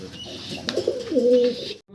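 An exhibition pigeon coos nearby, a low throaty rolling call rising and holding for a moment, over faint background noise.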